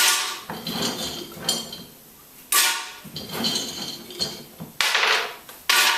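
Three handfuls of raw almonds are ground in short, loud, rough whirring pulses, each lasting about a second, with brief pauses between them.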